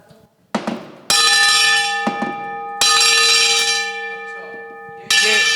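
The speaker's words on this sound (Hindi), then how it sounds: "ये हर घंटे बाद ये घंटी बजा के अपने अनोखे होने का ऐलान करता है" The bell of the historic John Jacob clock in Jacobabad ringing automatically, three loud resonant metallic strikes with long ringing decays, heard up close and alone.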